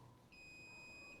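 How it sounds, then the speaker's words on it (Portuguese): A Minipa 2082 multimeter gives a steady, high continuity beep that starts abruptly and holds for about a second, faint and close with no talking over it. "ele tem esse aviso sonoro para dizer, olha, tá passando energia onde você está querendo testar"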